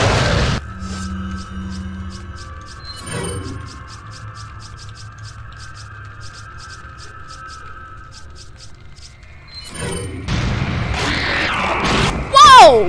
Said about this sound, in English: Use the sensory grenade.